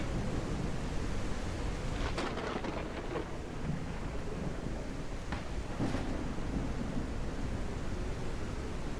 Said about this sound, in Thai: ในระหว่างทางพายุดันเข้าฝนตกหนัก